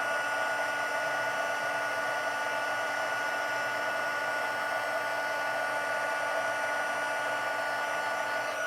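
A heat tool blows hot air over embossing powder on a greeting card, a steady close whine with a constant tonal hum running unbroken and loud the whole time, with no talking.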